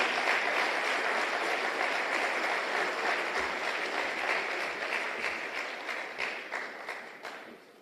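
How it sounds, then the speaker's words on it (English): A big audience at a Jamaica Constabulary Force graduation ceremony keeps up thick, continuous applause that slowly fades over several seconds. "Keep the applause coming, man."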